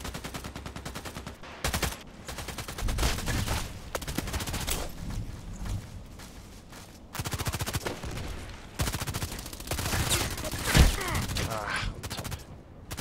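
Rapid SCAR-L rifle fire in a first-person shooter, bursts of loud close shots with short pauses, some rounds striking a house, and someone talking now and then between volleys.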